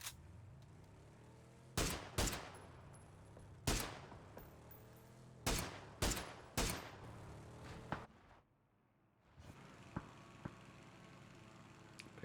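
Gunfire in a PUBG esports scrim match: about eight loud, sharp shots in uneven bursts, each with a short echoing tail, then a brief silence and a few faint distant pops.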